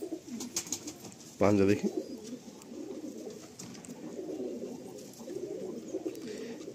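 Blood-line pigeons from a Bengal fancier's loft coo softly and continuously near the listener while people talk over them, with one brief loud voice burst early on.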